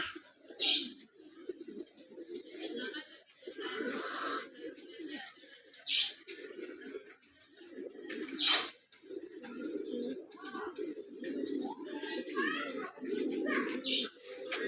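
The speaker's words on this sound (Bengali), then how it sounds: "ভাদ্র মাসের আমেজ নিতেছে কবুতর" Pigeons coo repeatedly in low, throaty bursts, with occasional chirps and faint rustling around them, many perched in a tree; no one speaks.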